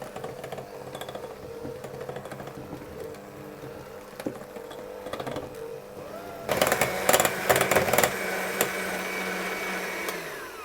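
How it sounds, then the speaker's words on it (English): Electric stand mixer turning on low speed through icing sugar, a steady motor whir that jumps louder and brighter after about six seconds, running close and continuous with no talking. "I'm going to start my mixer on a very low speed, otherwise the icing sugar will go everywhere"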